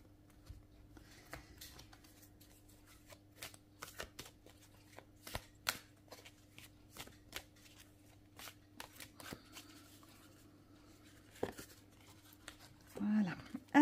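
Small oracle cards being shuffled by hand, a quick irregular patter of soft flicks and riffles, close but quiet over a low steady hum, ending in a louder rustle.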